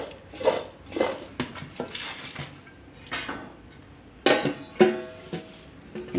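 Sweet sugar-based raw mango pickle being stirred in a pot, with close, intermittent spoon knocks and scrapes against the metal in uneven bursts.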